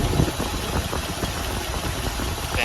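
A 4.5 liter V8 in a classic car idles up close near the belts, a loud, steady broadband rumble with a slight uneven pulse and no voices.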